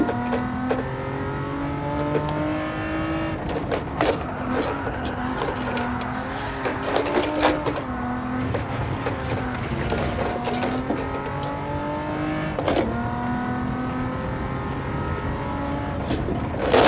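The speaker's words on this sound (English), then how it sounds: "a lot of times the handbrake is very useful in order to get the car drifting." A race car drifting with the handbrake in Gran Turismo 7, its engine droning and revving steadily with shifting pitch throughout, loud and close with faint tire noise and no voices.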